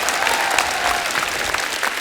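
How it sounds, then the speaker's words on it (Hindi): A studio audience at a Hindi comedy talk show breaks into loud, dense applause, steady clapping filling the whole moment. "जोरदार तालियां होनी चाहिए।"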